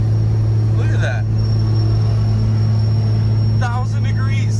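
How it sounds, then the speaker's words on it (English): Diesel pickup truck with a turbocharged engine towing a load up a steep grade, a loud steady low engine drone with turbo whine above, continuous and close, with people talking over it. "That turbo is freaking screaming."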